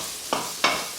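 Leftover spaghetti sizzling in a frying pan is stirred twice, each pass a loud, close scraping swish over a steady frying hiss.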